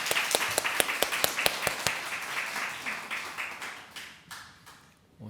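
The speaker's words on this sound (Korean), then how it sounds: "이 시간 우리 찬양팀을 위해서 한번 박수로 격려하는 시간 가졌으면 좋겠습니다" A church congregation claps for the worship team during a Sunday service: sharp individual claps at first, then a thinner, softer spread of applause that fades out over a few seconds.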